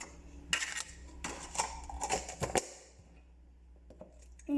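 A large spoon mixing crème fraîche in a dish, a run of close, sharp clinks and scrapes against the bowl, then a quieter pause with faint taps.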